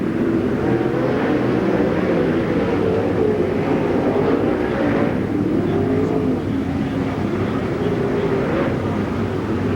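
Race cars at Eastbay Raceway roar around the track in close racing, a dense continuous engine drone with rising and falling pitch. An announcer talks over it.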